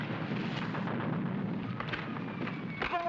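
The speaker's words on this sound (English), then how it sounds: "Somebody's using real bullets." Live-ammunition gunfire rattles through a 1942 war comedy film's battle scene, a dense, continuous barrage of loud cracks and rumbling blasts with a brief voice near the end.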